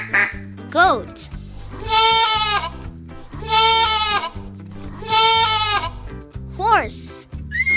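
A goat bleats in three long, quavering calls spaced a few seconds apart, loud and close, over a musical backing with brief rising voiced sounds between.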